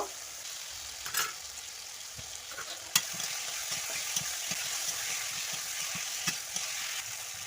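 Potatoes fry in spice paste for a rohu fish curry, a soft continuous sizzle under repeated light spatula taps and stirring scrapes, close and fairly quiet with no speech.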